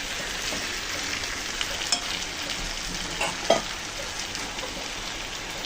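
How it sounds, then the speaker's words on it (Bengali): Fried young jackfruit is sautéed in a pan, with a steady close sizzle and a few brief stirring scrapes, and no one speaking. "ইঁচড় দিয়ে একটু হালকা করে কষিয়ে নেব"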